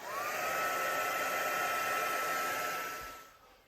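A hair dryer blows steadily and close by as it dries a coat of paint on an art journal page, a loud even rush that cuts off near the end, alone without speech.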